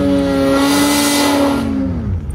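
The engine of a stuck off-road vehicle revs hard and loud in one sustained, strained tone that drops away at the end, with no talk.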